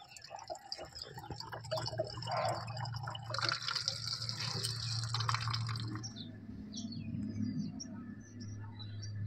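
Water is poured into a potted plant sitting in a tin, a soft, steady trickle and splash at close range over a low hum, with faint bird chirps toward the end.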